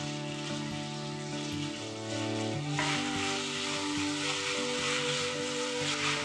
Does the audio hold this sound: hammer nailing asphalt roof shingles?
no